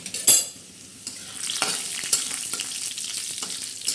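A spoon stirs a tempering of toor and moong dal with garlic in a hot pan, bringing a bright sizzle with scraping strokes that grows steadier after a brief pause, close and alone.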